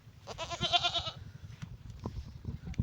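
A goat gives a wavering, nasal bleat, followed by softer bleats and quiet background rustle, fairly close by, on a char of the Teesta River.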